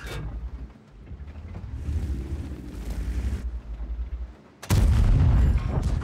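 A tank cannon booming in the video game Iron Arnie, with a deep rumbling low roar building through the middle and then a loud, heavy blast near the end, close and dominant with no talk.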